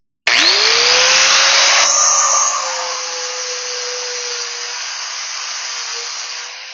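Power tool stripping coating near bolt holes on a torsion bar mount for a 1-ton Dodge truck, starting abruptly with a loud high whine that settles into a steady, slightly lower drone.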